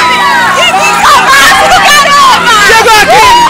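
Supporters' crowd at a Kanzen 2013 competition, a loud dense roar of voices and shouting that fills the whole stretch, with excited chatter and calls rising over the steady hubbub.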